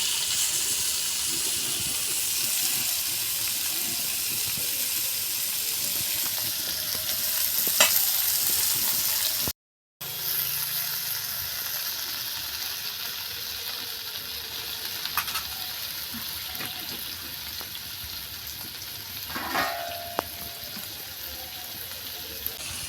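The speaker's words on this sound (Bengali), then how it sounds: "পনিরগুলোকে ওপিট করে ভেজে নেব" Paneer pieces fry in oil, turned over for yogurt paneer, giving a continuous close sizzle with occasional stirring clinks and a brief break in sound partway through.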